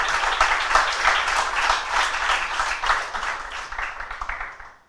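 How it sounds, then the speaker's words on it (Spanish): An audience at a talk on AI marketing strategies for startups applauds a volunteer, a steady, dense clatter of many hands held for several seconds before it fades out at the end. "Un aplauso para el voluntario"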